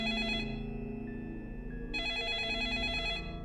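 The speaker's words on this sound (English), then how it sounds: "The sudden ringing of the phone startled everyone in the room." Telephone ringing inside the video game 428: Shibuya Scramble, a bright electronic ring with steady repeating tones heard over quiet background music, with no talking.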